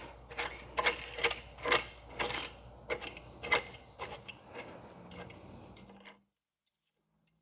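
Ratcheting metallic ticks and scrapes as a bolt is threaded into rear tip-over protection on a Suzuki GSX-S1000GT motorcycle, an irregular series of close, sharp clicks over several seconds, then silence.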